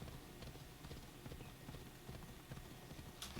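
Steady clip-clop of a ridden horse's hooves in Assassin's Creed Odyssey, a quiet, even trotting rhythm that continues throughout.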